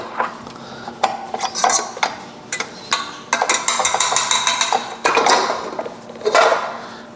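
A whisk beats lemon bar filling in a bowl, producing rapid, uneven metallic clinks and scrapes against the sides, close and fairly loud, with no voices.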